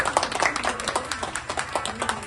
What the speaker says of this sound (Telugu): big claps tiger, big claps